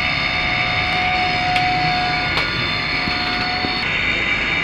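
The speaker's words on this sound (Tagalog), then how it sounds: "Rinig na rinig ang ingay na ng fan motor." A worn fan motor in a Kolin Primus air conditioner runs with a loud, steady whine and hum, holding a constant drone with faint clicks throughout.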